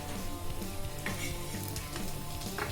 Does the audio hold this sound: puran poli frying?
yes